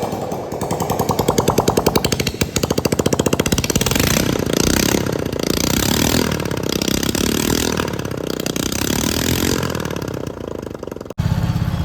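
A motorcycle engine kick-started and running close by, a loud, steady, rapid chugging idle with clattering mechanical rhythm that holds for about eleven seconds before cutting off briefly.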